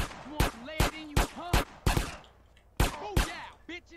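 Gunfire in GTA San Andreas during a train chase: a string of sharp, loud single shots at a fairly steady rhythm, about nine of them, with a short pause in the middle.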